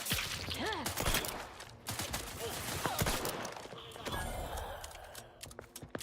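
Missile fire in The Outer Worlds 2 game combat: a dense, noisy salvo of blasts and sweeping tones, loud and continuous for several seconds, tapering toward the end.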